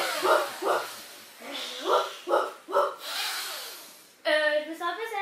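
An actor imitates the barking of Cerberus, the three-headed dog, in a stage production, giving a series of gruff, breathy barks and snorts in short bursts, then a sudden whining, wavering vocal cry at the end.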